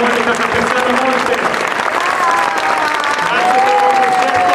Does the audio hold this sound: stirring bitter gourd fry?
no